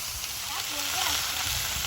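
Chicken feet are dropped into a hot wok (kadai), setting off a steady, close sizzle of frying with soft crackles throughout, and a faint voice is just audible in the background.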